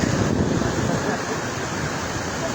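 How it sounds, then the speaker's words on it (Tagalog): Loud, continuous roar of heavy surf crashing nearby, a broad rushing wash with wind buffeting the microphone. "ang lakas po ng alon, no?"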